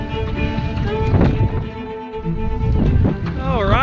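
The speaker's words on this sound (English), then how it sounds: "But boy, it's still windy out here." Wind gusting across open water around a canoe, a steady broad rush with buffeting at the microphone, while someone talks throughout.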